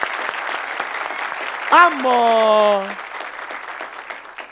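Studio audience clapping for seven male musicians and a female performer, a steady wash of applause with a voice talking over it and a brief sung or held note rising above.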